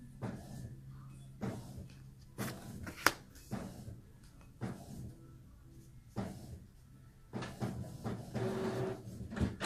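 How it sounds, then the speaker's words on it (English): A printer runs in the background indoors, its clunks, slides and mechanical whirs coming in repeated bursts with pauses between them, fairly faint and steady across the stretch. "sorry for the background noise of the printer"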